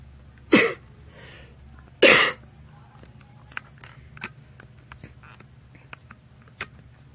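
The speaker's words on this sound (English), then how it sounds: "I had a little cough." Two sharp, loud coughs a second and a half apart, followed by quiet small clicks and faint shuffling.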